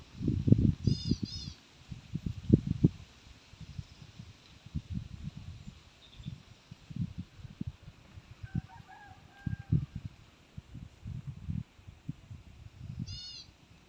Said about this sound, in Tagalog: tanging maririnig nyo lang po ay mga tilaok ng manok at huni ng mga ibon